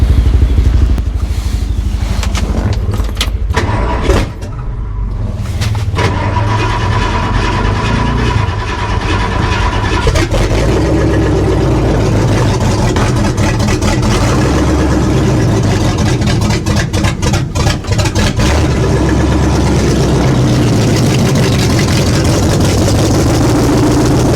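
A 1976 Ford F100 engine cranks and fires, stumbling briefly before settling into a loud, rough, steady idle that carries on for the rest of the stretch, close to the truck.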